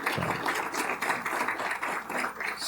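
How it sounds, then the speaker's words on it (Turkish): A single person clapping hands at a steady, moderate pace, a dry run of close claps lasting a few seconds with no voices. "ben de sizi alkışlayayım artık yani"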